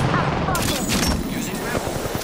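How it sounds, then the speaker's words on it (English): Bursts of rapid gunfire in Apex Legends, sharp repeated shots layered over clicks and other game effects. A voice speaks over the shooting. "Laser shooting. Firing."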